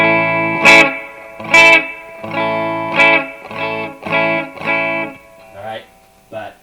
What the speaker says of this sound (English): So normally it sounds like this with the buffer on in front.